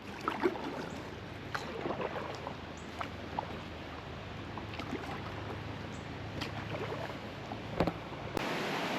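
Continuous rushing river water fills the background, a steady broad wash of flow with a few faint knocks and splashes nearby, on a kayak trip.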